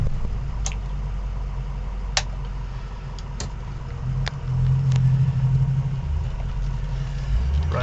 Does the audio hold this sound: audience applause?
no